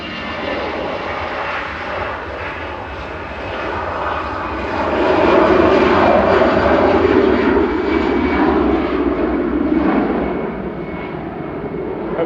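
A jet airliner arriving on a flight from Johannesburg at Manchester Airport, its engine roar steady and broad, swelling louder midway through before easing back, heard alone without talk.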